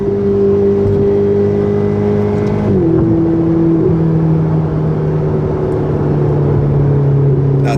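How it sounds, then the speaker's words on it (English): Heard from inside the cabin, a Ferrari 488 GTB engine pulls hard in second gear with a loud, steady droning roar. The pitch shifts slightly partway through and stays strong to the end, with no talking. "If I want to hop on the throttle, wow, it's immediate."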